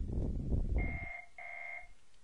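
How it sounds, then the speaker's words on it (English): A telephone rings twice in a steady electronic double-tone burst after some low rumbling room noise, moderately faint and heard alone with no talk over it. "I'm sure you heard that phone ring in the middle of our work"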